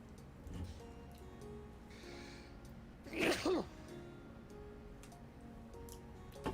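A single short sneeze sounds at a moderate distance in a quiet indoor room, with faint ticking in the background before and after.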